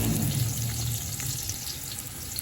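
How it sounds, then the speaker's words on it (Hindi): Half a kilo of onions dropped into hot oil sizzle loudly, a dense steady hiss that carries on unbroken throughout. "गाइस ये देखें ऑयल हमारा गर्म हो चुका है, इसमें जो है ना आधा किलो प्याज ऐड कर देंगे।"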